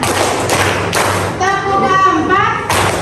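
A class of schoolchildren claps a counted rhythm, with loud, close hand thumps landing in separate beats while young voices chatter and call out between them in a lively classroom.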